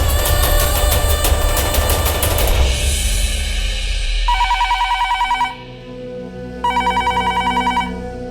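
A loud old-style telephone bell rings in rapid bursts, then a softer, pulsing electronic phone ring follows in two spaced bursts.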